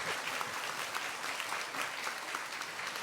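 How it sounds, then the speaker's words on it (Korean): Audience applause at a book concert with author Jeong You-jeong, a steady, dense clapping wash from a large crowd that holds evenly throughout without a break. "자, 이렇게 여러분들의 박수와 함께"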